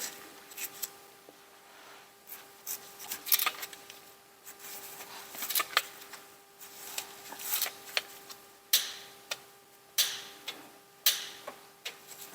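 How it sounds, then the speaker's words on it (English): A torque wrench ratcheting and clicking while tightening the fill plug on a Honda Ridgeline or Pilot transfer case, producing repeated sharp ticks in uneven bursts at close range against a quiet background with a faint steady hum. "Got my torque wrench set for 32 foot-pounds"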